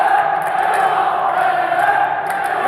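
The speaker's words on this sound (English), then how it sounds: "the crowd going wild in here" Dense, loud roar of a large crowd cheering and yelling at an esports FIFAe Club World Cup event, a continuous wall of voices without pauses.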